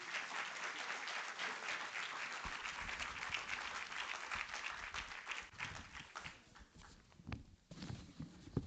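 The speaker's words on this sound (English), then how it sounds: "Give them a round of applause." Sustained audience applause at a genealogy and family-reconnection event, a dense steady clapping that fills the room for the full length, thinning slightly near the end with a few louder individual claps.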